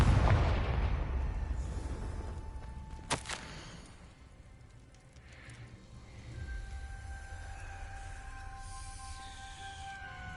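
A Confringo fire spell explodes in the Hogwarts Legacy video game: a loud, deep blast at the start that decays into rumble, a sharp crack about three seconds in, then magical ringing tones over a low swell.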